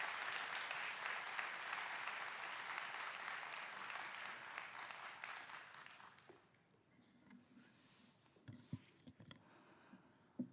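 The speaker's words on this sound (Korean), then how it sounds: "우리 목사님 등단하실 때 우리 뜨겁고 감사한 마음으로 박수로 맞이하시겠습니다" A church congregation applauding at an anniversary worship service: broad, sustained applause for about six seconds that dies away, leaving scattered claps and room noise.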